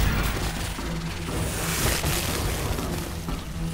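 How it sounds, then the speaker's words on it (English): Gunfire and blasts against enemy pods in the shooter game Singularity, a dense run of booming, crashing explosions that stays loud and continuous throughout. "So if I shoot them, if I shoot the pods"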